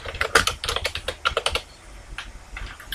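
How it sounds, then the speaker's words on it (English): Close, brisk typing on a computer keyboard, a quick run of individual key clicks in uneven bursts that thins to softer taps toward the end, with no voices. "So I just type"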